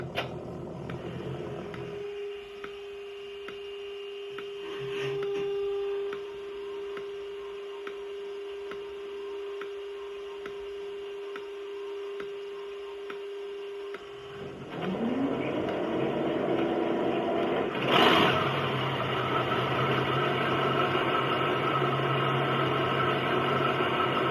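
A model railway locomotive's sound system starting up: a steady tone and soft ticking give way to a rising whine, then a burst as the engine settles into a loud, continuous rumbling drone.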